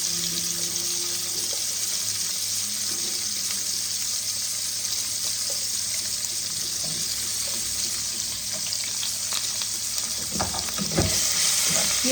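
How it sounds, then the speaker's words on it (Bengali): Onion and black cumin frying in oil for bathua saag give a steady, close sizzle with scattered crackles and a few stirring scrapes, and no voices over it. "এবার আমি পেঁয়াজ ফোড়নে দিয়ে দিলাম।"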